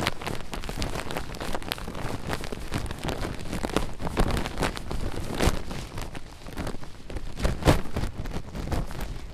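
Rain pattering down in mountain terrain, an uneven hiss of drops striking nearby surfaces with occasional sharper hits and light wind buffeting, continuous throughout.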